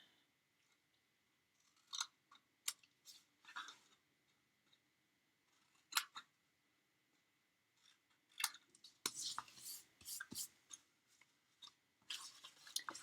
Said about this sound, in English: I'm going to do a little trimming on these little side tabs